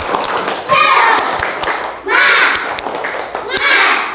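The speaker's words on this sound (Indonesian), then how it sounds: "tepuk semangat." Children in a classroom clap in rhythmic bursts for a spirit clap. Three loud rounds of clapping are separated by brief pauses, with children's voices mixed in.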